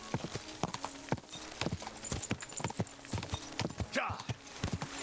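Horse hooves pound in a steady galloping clip-clop in Kingdom Come: Deliverance II, loud and close, with a brief whinny partway through and faint voices underneath.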